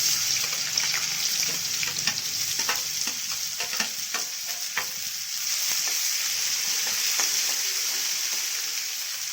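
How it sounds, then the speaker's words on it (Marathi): Two finely chopped onions fry in hot oil with half a spoon of cumin and mustard seeds, giving a steady loud sizzle with occasional pops and stirring scrapes throughout. "मी हा कांदा आपण चिरून घेतला होता ना दोन बारीक कांदे घेतलेले आहेत"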